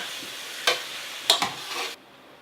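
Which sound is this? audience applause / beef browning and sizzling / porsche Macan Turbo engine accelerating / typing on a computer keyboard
beef browning and sizzling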